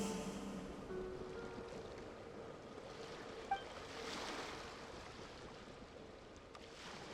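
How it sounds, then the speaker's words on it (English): Ocean waves roll and wash in Genshin Impact, a soft, steady surf hiss that swells gently and fades, with a brief faint click midway. "Go to where you can hear the sound of the waves."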